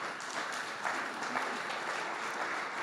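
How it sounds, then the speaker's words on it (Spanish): Steady applause from a church congregation, dense and continuous throughout with no voices rising above it. "Den un fuerte aplauso al Señor."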